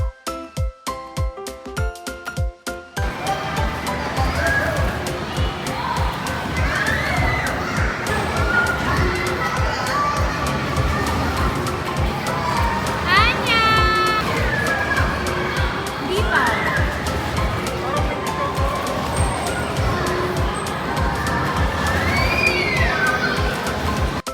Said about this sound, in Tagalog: Meron nga rin pala silang indoor na playground